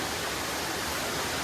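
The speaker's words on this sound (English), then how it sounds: "There's that main waterfall 5 minutes up from where I am, and then here's the secondary one" The secondary cascade at Victoria Falls in the Blue Mountains gives off a constant close roar of falling water, a dense, even rush with no talk over it.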